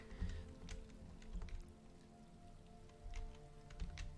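Light rain patters steadily inside a house in the video game Elder Scrolls Online, a soft, close wash of drops with scattered sharper ticks and a faint hum beneath.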